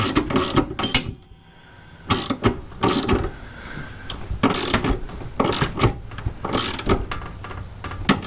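A ratchet wrench tightens a bolt on a Camaro/Firebird polyurethane transmission mount, giving close, irregular bursts of metallic clicking with short pauses between strokes and no talk.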